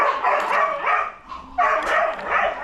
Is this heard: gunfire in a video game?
no